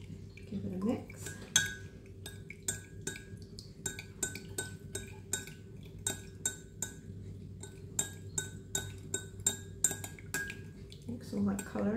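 A utensil stirs melted wax and colour in a jug, giving a steady run of sharp clinks and taps against the sides, close and fairly quiet, with faint talk at the start and end.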